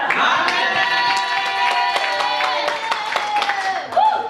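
A church congregation claps and cheers together in a sustained, lively burst of applause while a voice carries over the crowd.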